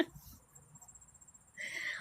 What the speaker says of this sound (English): Are they crickets or grasshoppers?